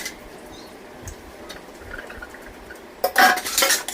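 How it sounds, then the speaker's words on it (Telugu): Dishes, pots and cutlery being washed at a kitchen sink, soft scattered clinks at first, then a louder burst of rattling utensils and running water near the end; no talking. "నేను పిల్లల్ని స్కూల్లో దింపచ్చిన తర్వాత గిన్నెలు అయితే వాష్ చేసుకుంటున్నానండి"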